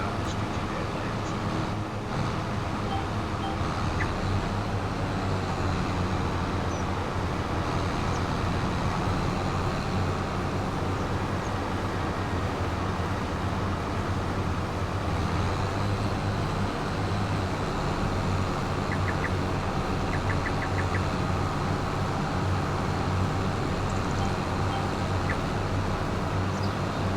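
A tractor fitted with a front mower in Farming Simulator 25 runs with a steady, continuous engine drone and rumble that holds evenly throughout, with no voices over it.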